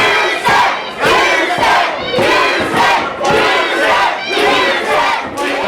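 A wrestling crowd roars continuously for the Texas Lion at a No DQ match, loud sustained cheering and shouting in surging waves with no break.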